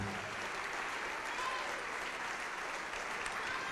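A church congregation claps together in a sustained, even wash of applause that fills the room, steady from start to finish with no single claps standing out.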